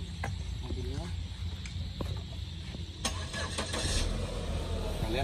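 A car engine is cranked and started, with repeated mechanical whirring and clicks building into a running engine, moderately loud and close, with some voices and handling noise around it.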